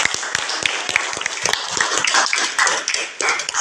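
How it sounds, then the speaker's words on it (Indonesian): Classmates in a classroom break into brisk, uneven hand clapping, a dense patter of many close claps rising and thinning over a few seconds. "Kalau sudah selesai, tepuk tangan dulu untuk kita semua"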